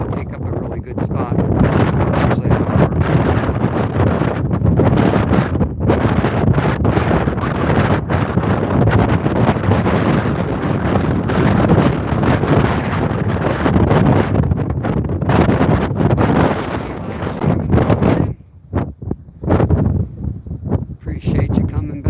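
Strong wind buffets the microphone outdoors by a river, roaring loud and gusty for the whole stretch with only a brief lull near the end, while a voice talks underneath.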